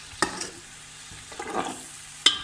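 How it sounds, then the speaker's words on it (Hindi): Masala for nahari frying in a pot, a soft steady sizzle with a few sharp scraping stirs of a spoon, quiet and close with no talking. "अब इस मसाले को हम अच्छी तरह इसके साथ भून लेंगे।"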